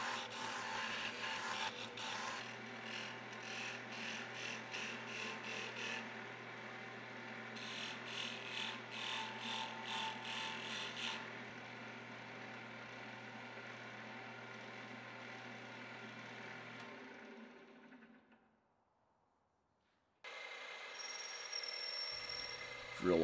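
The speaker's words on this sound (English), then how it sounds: "I'll turn a handle on my wood lathe." A wood lathe spins a wooden handle for a steel chisel-making tool, giving a long, steady motor whine with the scraping rasp of a cutting tool against the turning wood, then winding down to near silence before a brief further burst.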